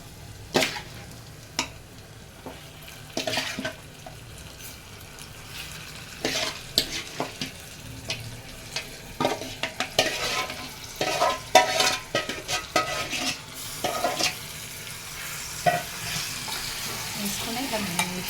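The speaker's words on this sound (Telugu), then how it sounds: "మటన్ ఇట్లా కలుపుకోవాలి" Mutton pieces for a curry are fried and stirred in a hot pan: continuous sizzling with repeated scraping and clinking stirring strokes, close up, growing busier toward the end, with no voices.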